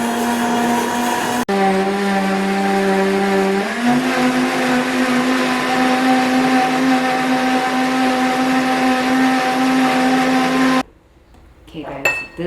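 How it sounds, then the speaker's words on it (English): A blender blends an activated charcoal detox smoothie with a loud, steady, high-pitched whir that steps up in speed early on, holds for several seconds, then cuts off abruptly, followed by faint clatter. "And blitz it for about 35 seconds or whatever is your lowest setting."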